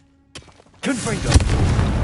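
An explosive spell in Hogwarts Legacy goes off with a small sharp pop, then a loud booming blast that swells into a sustained roaring rumble.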